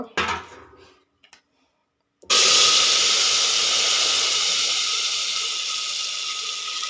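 Ground chili paste hits hot, smoking cooking oil and erupts into a loud, sudden sizzle that holds as a steady, dense hiss for several seconds, after quieter kitchen clatter.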